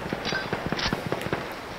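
A grenade blast and surrounding combat effects in the Battlefield 1 video game, heard as a dense burst of crackling pops and thuds repeating steadily over a couple of seconds, fairly loud, with no talking.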